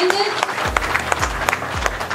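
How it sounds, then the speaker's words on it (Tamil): Audience clapping together at a contractors' welfare association meeting in Coimbatore, a steady burst of applause from a crowd with a few voices mixed in. "ஒரு கைத்தட்டலும் கொடுத்துடலாம் எல்லாரும் சேர்ந்து"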